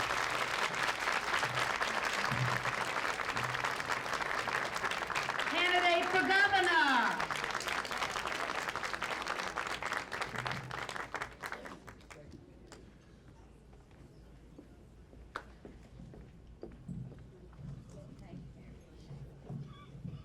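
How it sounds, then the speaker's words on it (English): A crowd at a 1994 political campaign event applauds a candidate for governor, steady and moderately loud for about ten seconds. A voice speaks over it, then the clapping thins to scattered claps under quieter talk. "let's give her a warm applause"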